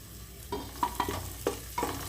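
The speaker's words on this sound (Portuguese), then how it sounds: "Vamos dar uma douradinha nessa cebola pra gente poder colocar aqui o alho." Onion browning in a pan with oil, a continuous sizzle broken by several scraping stirs and clicks of a utensil against the pan, close up with no voices.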